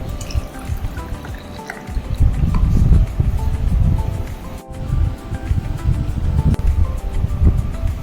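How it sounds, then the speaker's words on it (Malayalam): Watermelon juice with small chopped watermelon pieces poured into a glass over ice cubes, a steady splashing liquid stream running close and fairly loud for several seconds with a brief break midway. "അതിനുശേഷം ചെറുതായി അരിഞ്ഞ വാട്ടർമെലോൺ ഇടാം ജ്യൂസ് ഒഴിക്കാം"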